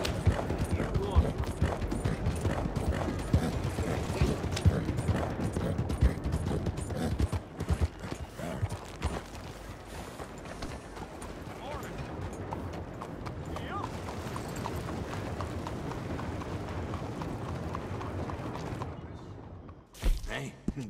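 Horse hooves clip-clopping in Red Dead Redemption 2, steady rhythmic hoofbeats close by with occasional thuds and a whinny, while voices talk over them before the sound cuts off near the end.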